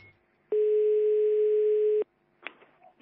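Telephone dial tone after the caller hangs up, a single steady electronic tone lasting about a second and a half, clear and alone, followed by brief clicks and faint handset noise.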